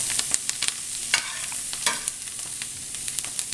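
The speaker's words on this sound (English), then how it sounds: "Now we're going to put the Brussels sprouts in." Brussels sprouts sizzle and crackle in a hot pan, a steady close frying hiss broken by sharp pops and occasional stirring scrapes, with no talking.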